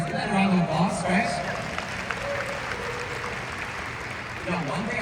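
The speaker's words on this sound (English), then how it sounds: "Let's give that a round of applause" An audience applauds at a compensation plan presentation, the clapping fairly loud and continuous under a speaker's voice.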